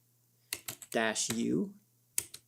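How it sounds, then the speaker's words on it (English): Typing a command on a computer keyboard: a short cluster of close, crisp keystrokes, a voice-like tone in the middle, then a couple more taps at the end. "So let's type mysql-u,"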